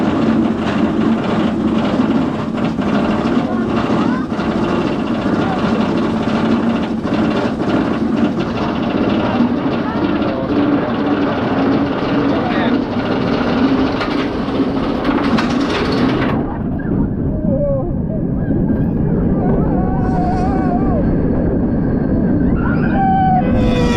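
Nemesis roller coaster at Alton Towers running, a loud continuous rumble and roar of the train on track with rattling and metallic squeals, shifting to a lower grinding sound partway through.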